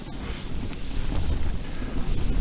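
Strong wind buffets the microphone at a winter camp on the Salla fells, a steady low roar and rumble that swells and gusts throughout, with no voices.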